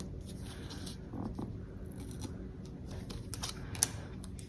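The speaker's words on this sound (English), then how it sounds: "Let's just kind of see how that looks when we tear it." A paper planner sheet torn along its perforation, heard close up as a quiet, crackly ripping run of small snaps over a few seconds with no voices.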